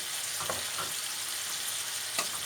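Minced meat and onion filling for içli köfte sautéing in a pan, a steady close sizzle with a few light stirring scrapes, no voices.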